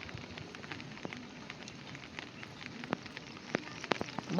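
Light rain patters steadily with scattered drips and soft ticks, a sparse, gentle drizzle that picks up slightly with a few sharper drops near the end.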